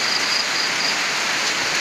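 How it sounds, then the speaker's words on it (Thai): Steady rain outdoors in rural Thailand, a loud dense hiss that holds unbroken throughout, with a faint high insect-like tone drifting in and out. "บรรยากาศ บรรยากาศฝน"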